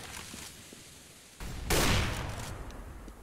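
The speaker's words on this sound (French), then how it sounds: "qui va néanmoins tomber sous les balles de Crazy" Gunfire in a Counter-Strike match at IEM Gamescom 2015: quiet game ambience, then a short, loud burst of rapid shots midway that fades into a lingering rumble.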